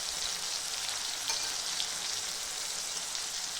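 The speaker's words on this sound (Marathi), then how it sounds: "टमाटर पण लगेच तेलामध्ये फ्राय होऊ द्यायचं चांगल्यापैकी." Tomatoes frying in hot oil with red chili powder, a steady dense sizzle and crackle that runs unbroken throughout at moderate level, with no voices.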